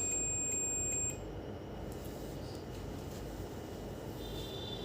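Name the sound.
multimeter continuity buzzer beeping while testing a phone board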